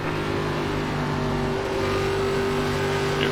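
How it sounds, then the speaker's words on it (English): An ARCA race car engine in a racing sim at Charlotte, droning low and steady with a constant hum and slight rise in intensity, close and alone with no voices. "Just such a low engine sound now"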